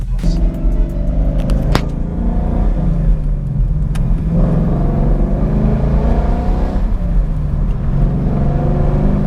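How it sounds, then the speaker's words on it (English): A car with a 5.0 engine pulls away on an open road, its exhaust rising in pitch as it accelerates through the gears, a loud, rumbling, continuous drone close to the listener. "We'll open her up a little bit on this road."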